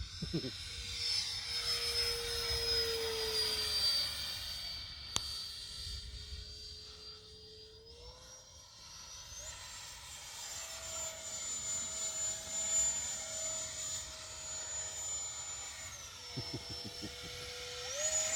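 A Sapac Eurofighter 64mm EDF model jet flies overhead with a high, whining ducted-fan scream that rises and falls as the throttle shifts, fairly distant and steady outdoors.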